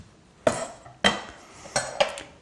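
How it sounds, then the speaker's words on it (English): A coconut is being cut open with four sharp, hard knocks spaced about half a second apart, each one ringing briefly. The knocks are loud and close, with quiet between them. "So I'm just going to cut that open. It's always a bit of fun opening these coconuts."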